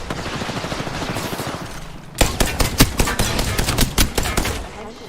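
Loud, close bursts of rapid automatic gunfire in a video game, a fast rattling string of shots breaking in after a moment of steady game noise.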